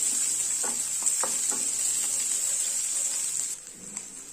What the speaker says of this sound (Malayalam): ഒരു സവാള കട്ട് ചെയ്ത് കൂടെ ചേർത്ത് കൊടുക്കുന്നുണ്ട്. ഇതും കൂടിയിട്ടൊന്ന് വഴറ്റി കൊടുക്കാം.